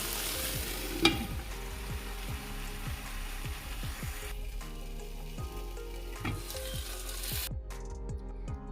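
Mixed vegetables fry in oil in a covered pan: a steady soft sizzle runs throughout, broken by a regular series of scraping and tapping stirs and one sharp clack near the start.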